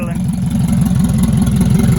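A boosted K-series RSX with a stainless hood-exit exhaust idles close by with a steady, low, pulsing rumble throughout.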